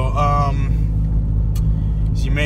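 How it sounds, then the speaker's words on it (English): A Mercedes car's engine runs loudly while driving, a steady low rumble throughout with a voice briefly heard near the start. "the vehicle's a little louder right now. That's because it's my car"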